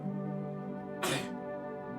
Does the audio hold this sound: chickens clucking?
no